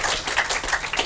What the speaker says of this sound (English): Can we have a round of applause for Karon?